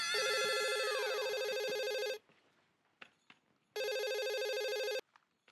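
A home telephone rings in a scene from a Hindi TV sitcom, two electronic bursts, a long ring, a short pause, then another ring, loud and close with faint room noise between.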